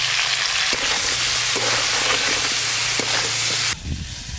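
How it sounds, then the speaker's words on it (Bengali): Loud, continuous sizzling of cauliflower frying in hot oil with salt and turmeric, with a few soft scraping stirs, ending abruptly as the sizzle drops away. "ফুলকপিগুলো লবণ হলুদ দিয়ে ভালো করে ভেজে নেব"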